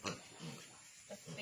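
A pig with a hog health problem gives soft, low grunts, a short snort at the start and a few quieter grunts after, close by but faint over a slight background hiss.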